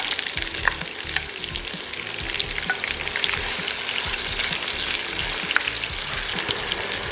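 Onions sizzle and fry steadily in a pot of oil for a Durban-style chicken curry, with a constant loud hiss and occasional scrapes of stirring.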